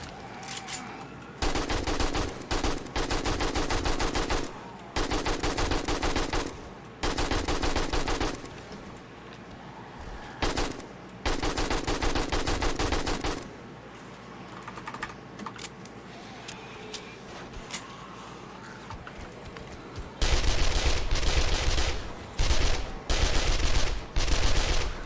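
Submachine gun fire in the survival game 7 Days to Die, repeated loud close bursts of rapid automatic shots separated by short pauses, with quieter game ambience between them, no speech.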